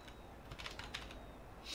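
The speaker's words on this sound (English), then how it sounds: "That typing." Quick bursts of keyboard typing come faintly through game voice chat in a roleplay session, a few soft clicking clusters over a low background hum.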